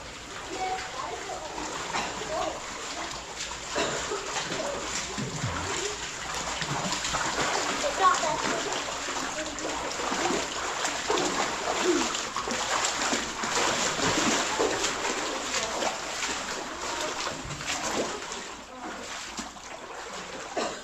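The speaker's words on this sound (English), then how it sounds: "This was the deepest compulsory pool for us, just over waist deep." Wading just over waist deep through a compulsory pool in a sandstone canyon churns the water into continuous sloshing and splashing that swells and fades, fairly close, under a constant rushing background.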